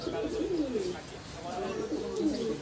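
Pigeons coo steadily inside a breeding room, their soft, rolling calls overlapping close by in a continuous murmur of low, repeated notes.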